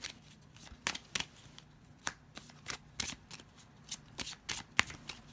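A deck of tarot cards being shuffled by hand, a rapid uneven run of soft riffling slaps and card flicks, close and fairly quiet, with no talking.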